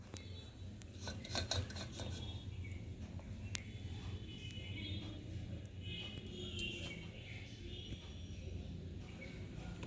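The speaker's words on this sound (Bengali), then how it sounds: "বেলের পাল্পটা এবার এই ছাঁকনি দিয়ে ছেঁকে নেব।" Bael fruit pulp is pressed and scraped through a metal sieve, giving a steady rasping, rubbing scrape with occasional clinks of utensil on metal, close up and continuous across the clip with faint background noise.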